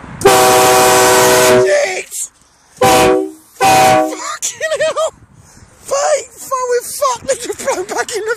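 Hornblasters K3 train air horns, taken off an Amtrak train, blast in a farmer's field with long, loud, rich chords, then two shorter bursts, followed by excited voices talking and exclaiming nearby.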